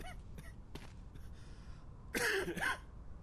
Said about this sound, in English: Ooh, you're coughing.